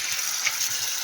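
Tap water runs in a steady, close hiss while small fish such as tangra and parshe are rinsed under it, continuous and unbroken with no talking.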